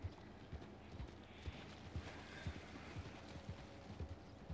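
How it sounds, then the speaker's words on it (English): Horse hooves clip-clop in a steady, fairly brisk rhythm in the Red Dead Online video game, moderately near against a background of faint wind and ambient noise. "He's riding his horse like a road rage driver there"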